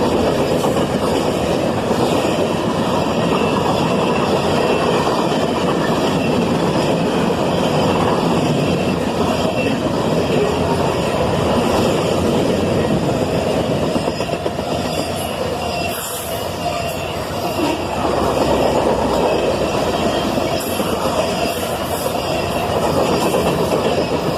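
A southbound manifest freight train led by Canadian Pacific and BNSF locomotives, with many tank cars, rolls past loudly and close, giving a steady rumble with clickety-clack wheels and intermittent squealing.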